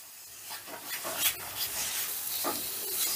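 Tomato paste cooks down in a wok and is stirred steadily, a faint sizzle under soft scraping strokes and rubbing sounds.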